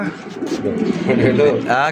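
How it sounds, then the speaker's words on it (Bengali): A Mundian-style king pigeon coos close by in a pigeon seller's stock, its soft throaty calls rising over a voice talking nearby. "মানে মুন্ডিয়ান স্টাইলের কিং কবুতর, তাই তো?"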